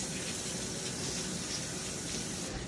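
A spoon is rinsed under a running kitchen tap, a steady, close, even gush of water without pause for a few seconds, with no voices.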